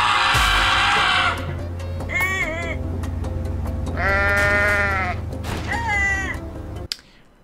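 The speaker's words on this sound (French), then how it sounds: "C'est le cri de la chèvre." A goat in the video game Goat Simulator lets out loud, wavering bleats, several drawn-out cries over a steady game background hum, ending abruptly.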